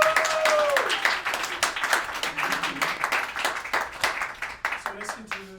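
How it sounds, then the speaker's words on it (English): An audience applauds at a director's panel for the Northfield film festival, with scattered, fairly close hand claps that thin out and fade over several seconds while voices talk over them. "Round of applause for this amazing."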